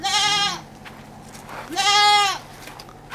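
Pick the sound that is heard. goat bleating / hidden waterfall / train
goat bleating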